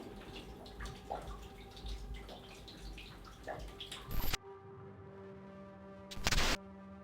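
Water runs steadily in a brewery cellar, a continuous splashing wash with scattered drips, broken by a couple of brief louder bursts; no talking.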